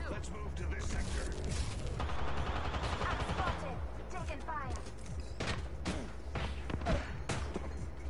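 Automatic and single gunshots from an Apex Legends firefight crackle in dense, sustained bursts, with game voice lines and sound effects layered over the shooting.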